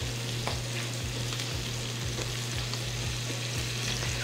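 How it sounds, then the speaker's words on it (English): Butter and sausage sizzle steadily in a pan for biscuits and sausage gravy, with rhythmic scraping from a utensil stirring roughly every half second, close and continuous with no talk. "We're just gonna stir that butter around and get all of our sausage really wet."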